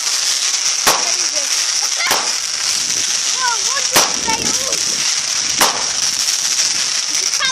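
Fireworks and firecrackers bursting outdoors, with several sharp, loud explosive cracks spaced a second or two apart over a steady crackling, hissing background, plus faint whistling rockets and brief voices.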